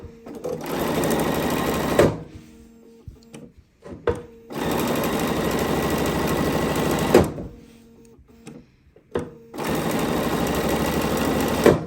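A sewing machine chain pieces quilt triangles in three long steady runs of rapid stitching, pausing briefly between bursts with small handling clicks and fabric rustle; close and loud, no talk.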